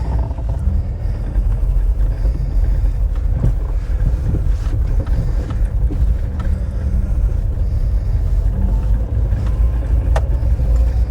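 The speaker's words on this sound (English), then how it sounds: "Let's take this Marina that doesn't want to stay in gear out for a little drive." A Morris Marina 1.8 estate with a gearbox that won't stay in gear rumbles along on a drive, its low engine and road drone steady and close, with wind buffeting the microphone throughout.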